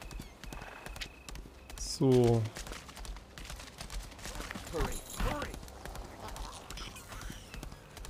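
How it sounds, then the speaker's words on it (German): Horse hooves clip-clop steadily while riding in the video game Lost Ark, with a brief neigh partway through; someone talks over the game sounds. "Jetzt reitet das Pferd."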